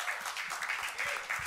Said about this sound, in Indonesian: Tepuk tangan buat Dika Casmala